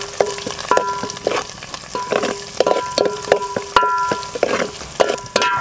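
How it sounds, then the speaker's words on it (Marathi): Crushed garlic and coconut frying in hot oil for a spicy mutton curry cooked over a wood-fired stove, with stirring scrapes and sizzle in uneven bursts and steady tones underneath. "आता हे लसूण खोबरं जे आपण टेचलेलं आहे ना ह्याच्यामध्ये घालायचे, चांगला आंबूळ आंबूळ हे भाजून घ्यायचे."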